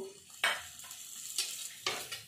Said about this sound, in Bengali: এই আলু ভালো করে মিশিয়ে নেব